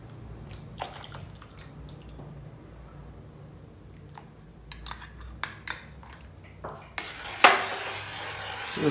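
Custard powder mix is stirred into boiled milk simmering in a pot for a fruit custard salad, giving faint scattered scrapes and clinks of a spoon against the pot that grow louder and busier toward the end.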